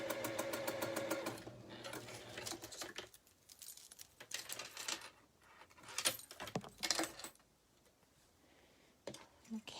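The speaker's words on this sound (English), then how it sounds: "one more to sew together at the end." A sewing machine stitches quilt pieces together for a star quilt, with a rapid, steady mechanical whir at the start, then stops and starts in short bursts under nearby talking.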